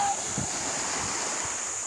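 Sea waves washing onto a beach, a steady rushing surf with wind buffeting the microphone, continuous and fairly loud with no clear voices.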